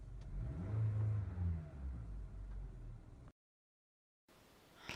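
A 2017 Toyota Camry engine cranks and starts up with a rising rev, settles into a steady idle, then cuts out to silence before a faint sound resumes.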